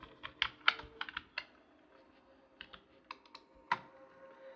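A computer keyboard clatters as someone types Python code, with short irregular bursts of key clicks and brief pauses between them, quiet and close.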